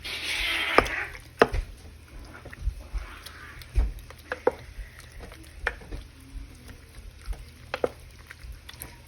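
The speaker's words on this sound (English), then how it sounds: "I'm gonna come in here and give this a quick stir" A spoon stirs keto queso dip made with cream cheese in a pot, giving scattered soft scrapes and light taps against the pot with quiet gaps between them. No one speaks.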